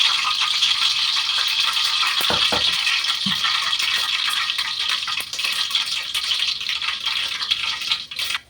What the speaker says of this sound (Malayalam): കടുകും കൂടെ അങ്ങോട്ട് ഇട്ട് കൊടുത്തിട്ട് അതും കൂടെ അങ്ങ് പൊട്ടട്ടെ